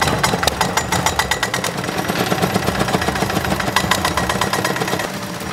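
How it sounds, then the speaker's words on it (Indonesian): Mechanical soybean thresher running, a loud, continuous rapid rattling and knocking with sharp repeated impacts over an engine drone, steady throughout with no talk. "menggunakan mesin thresher"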